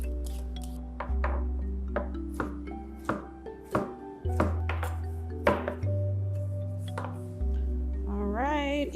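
A sharp knife chops cucumber on a cutting board in a series of crisp, irregular taps, close and clear over a low steady hum.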